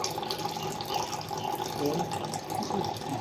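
Water being poured out for stray dogs and cats: a steady splashing, trickling stream runs for the whole stretch at close range, with faint background noise beneath it.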